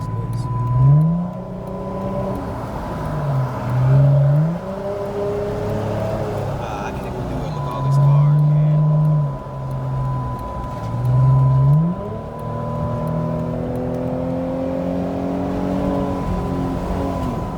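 A 2006 Dodge Charger accelerates onto a highway, its engine heard from inside the car rising in repeated revving climbs through the gears, moderately loud and steady between shifts.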